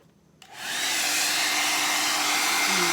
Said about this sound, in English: and then you take your blow dryer and